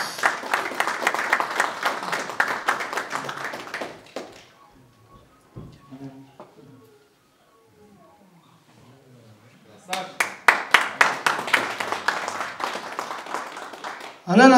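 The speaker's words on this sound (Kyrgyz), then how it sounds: "дагы бир футболчубуз Азат, кол чаап койсоңуздар." Audience applause for a footballer at a friendship match with Kyrgyz artists, a dense burst of clapping at the start that fades out, a quieter gap with faint talk, then a second loud round of clapping near the end.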